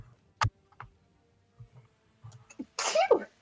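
A single loud sneeze near the end, preceded by a few quiet clicks and small handling noises, including dice rolling.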